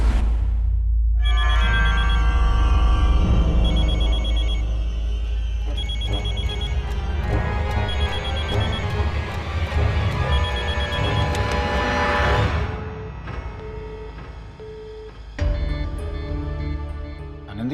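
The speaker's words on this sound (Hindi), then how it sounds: "आनंदी फोन क्यों नहीं उठा रही है?" A telephone rings repeatedly and goes unanswered, bright bell-like trills sounding in steady cycles close by for most of the stretch, then falling away near the end.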